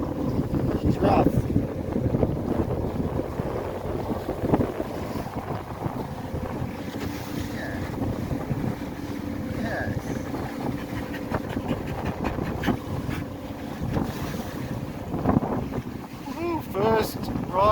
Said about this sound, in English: First ride on Scotty the Scavenger's boat